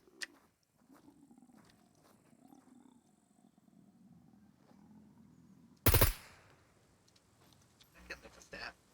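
A single sharp gunshot from a backup hunting weapon cracks loudly outdoors, followed by a short decaying echo, after a stretch of quiet background with faint voices.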